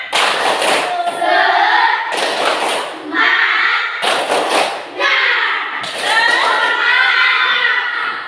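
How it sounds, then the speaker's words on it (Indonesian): A class performs the rhythmic 'tepuk semangat' clapping chant, loud bursts of group hand-claps in a patterned beat alternating with children's chanted voices, close and lively. "Semuanya tepuk semangat"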